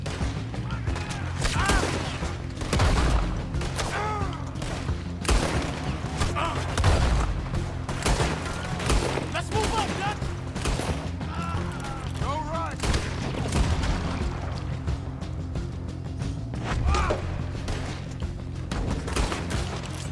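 A sawed-off shotgun fired in Red Dead Redemption II amid a dense, continuous gunfight, with many sharp reports and booms over steady background noise while someone talks.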